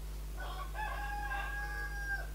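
A person mimics a rooster's cock-a-doodle-doo with a rising, held, then falling crow of about two seconds, close to the microphone over a steady low hum.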